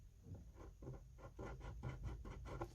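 A pencil marks a cardboard panel for building cardboard furniture, giving quiet, rhythmic scratching strokes repeated about eight times in close succession.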